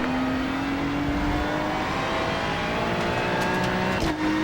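Race car engines roar continuously in a racing video game, a steady loud drone whose pitch slowly climbs and shifts as cars run together on track.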